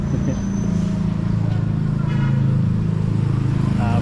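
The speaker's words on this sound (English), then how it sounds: "there's a lot of commuter traffic coming through here" Commuter traffic, including motorbikes and taxis, hums steadily nearby in a Manila neighbourhood, engines droning as vehicles pass, while a person talks over it.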